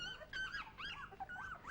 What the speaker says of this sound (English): These are 2-week-old German Shepherd pups.